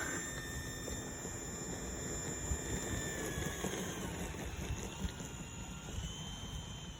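Low-wing model airplane in flight, its engine a thin high whine that shifts in pitch as it passes overhead, moderately distant over steady outdoor background noise.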